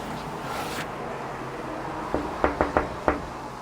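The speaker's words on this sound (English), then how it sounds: "Quick knock on the doors." Someone raps quickly on the doors of a motorcycle dealership, about five sharp knocks in a short burst, heard nearby against a low background hum.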